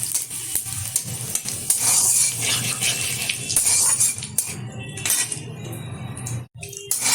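Bay leaf, dry chillies and five-spice hiss and crackle in hot oil in a kadai, with steady close sizzling, occasional stirring scrapes and light clinks throughout, briefly dropping out near the end.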